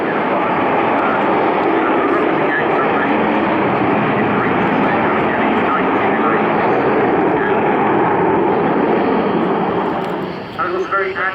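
Avro Vulcan XH558 bomber with four Bristol Olympus 101 engines roaring steadily overhead during an air display at Dunsfold, a loud continuous broadband rumble throughout, with a commentator's voice talking over it.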